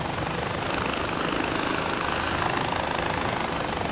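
A helicopter in the video game Far Cry 4 drones continuously with dense rotor and engine noise, loud and steady, with no speech.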